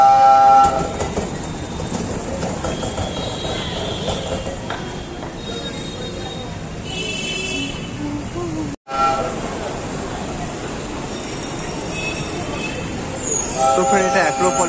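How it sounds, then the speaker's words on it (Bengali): A small ride train at the Acropolis mall passing by, a continuous rolling clatter of wheels with squeals and whistle-like tones, fairly loud and near, amid crowd noise and talking. "আবার আসছে ট্রেনটা।"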